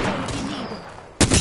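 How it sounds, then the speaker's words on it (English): Gunfire in the video game Apex Legends, a dense, noisy burst of automatic fire that fades, then a sudden loud close volley of shots at the end. "I'm getting shot."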